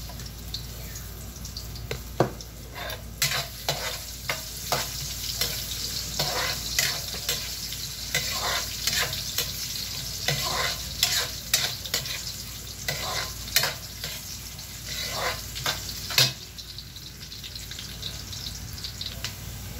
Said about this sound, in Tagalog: Unahin natin muna ang luya para bumango-bango.